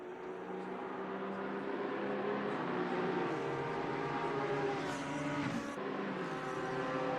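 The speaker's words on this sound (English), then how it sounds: "I do appreciate all the varying cars with their different engines coming by at the same time." GT race cars with varied engines in the Assetto Corsa Competizione racing game roar past together at the Nürburgring GP circuit, forming a dense, steady blend of engine drones with a brief squeal near the end.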